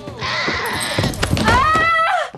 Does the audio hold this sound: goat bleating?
yes